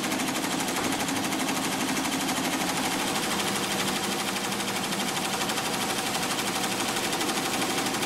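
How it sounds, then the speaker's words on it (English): An embroidery machine runs a satin stitch over glitter flake appliqué material on a garment, giving a steady, dense mechanical rattle that holds constant and fairly loud for the whole stretch, with no voices. "Next, let the machine resume with the satin stitch."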